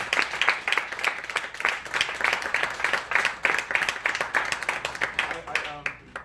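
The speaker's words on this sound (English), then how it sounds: "can we give the cast one more round of applause?" An audience applauds the cast of a stage production, a dense, continuous round of clapping that holds steady for several seconds before thinning out at the end.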